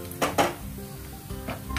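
Onions are stirred in a hot pan with a soft sizzle, a few sharp scraping clinks of a spoon against metal standing out close by.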